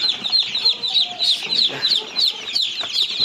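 A crowd of chicks and hens in a coop, including newly hatched Sussex chicks, keep up a steady stream of high peeping and clucking, close and busy, with the odd wing flap.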